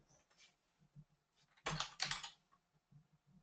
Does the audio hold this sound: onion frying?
no